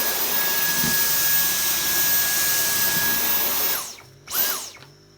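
A Dyson V10 cordless vacuum with the fluffy soft roller head runs on a hard floor. It makes a loud, steady high whine that cuts out near the end, winds back up briefly with a rising pitch, then drops away.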